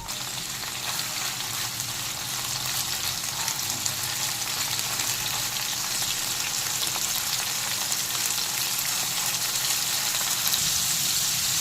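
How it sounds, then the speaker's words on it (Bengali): Marinated prawns fry in hot white oil, a steady, dense sizzle and crackle that stays loud and even throughout with no voices. "এবার চিংড়ি মাছগুলো প্রথমে ভেজে নেব।"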